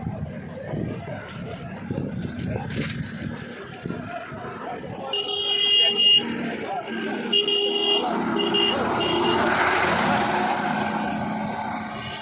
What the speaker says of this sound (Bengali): গাড়ি রয়েছে বাস টার্মিনালে প্রবেশ মুখ